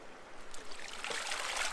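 Creek water rushing through a river sluice box used for gold dredging, a steady bright wash that swells louder partway through, heard alone without voices.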